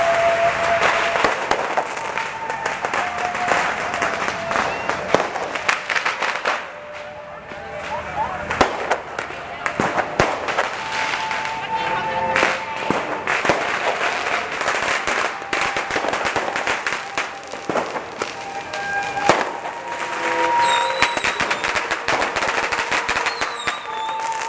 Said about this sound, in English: people letting fireworks off